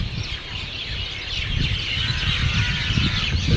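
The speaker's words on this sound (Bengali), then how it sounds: "এখানে পাখি দিনরাত 24 ঘন্টায় থাকে" A dense chorus of many birds calls without a break at a bird habitat in Gandhi Park, Puri. Overlapping chirps and fowl-like clucks form a steady, moderately loud wash of sound.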